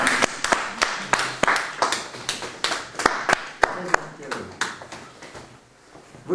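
Clapping at the close of a philosophy seminar: a small group's hands beating in an uneven, sparse patter of sharp claps, with talk over it, thinning out toward the end.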